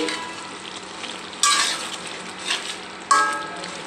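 Broiler chicken with masoor lentils being stirred in a pot, a loud sizzle flaring in bursts with each turn of the spoon and settling to a steady frying hiss between strokes.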